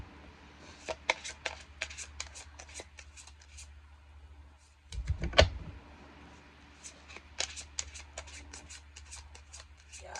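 A deck of cards being shuffled close up, with repeated crisp riffling bursts and a brief louder thump partway through, no talking.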